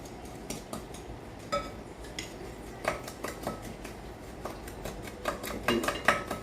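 A metal spoon stirs dry ingredients with coconut flour in a bowl: scattered scraping and light clinks against the bowl, uneven and close, with a soft gritty rustle between strikes and no voices.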